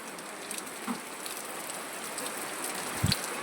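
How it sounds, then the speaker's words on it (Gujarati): Steady, dense rain hisses continuously on a surface, with a few louder nearby drips and knocks standing out from the constant patter. "ધડાધડી વરસાદ આવ્યો મિત્રો"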